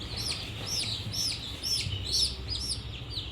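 Five-day-old chicks cheep in a rapid series of about seven shrill, evenly spaced peeps, close and clear over a low steady background, while eye-drop vaccine is given.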